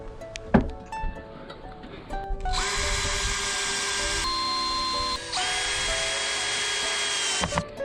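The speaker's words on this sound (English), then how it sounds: "I'm going to start drilling the decking boards down into this cross member." A power drill whines in two long bursts, spinning up and driving into decking boards on a cross member in the rain, with a brief pause between, close and fairly loud.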